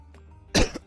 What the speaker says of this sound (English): My apologies for the coughing.